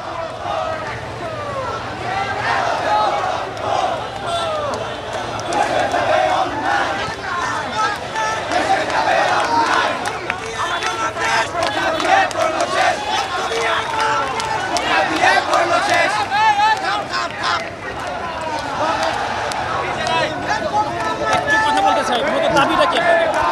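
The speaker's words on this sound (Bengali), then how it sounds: "বিপুল সংখ্যক শিক্ষার্থী এই মুহূর্তে শাহবাগে জড়ো হয়েছেন এবং তারা বিভিন্ন স্লোগান দিচ্ছেন" A large crowd of BUET students gathers at a protest at Shahbag, with a dense, continuous roar of many voices and rhythmic shouting that stays loud throughout, as if heard from among the crowd.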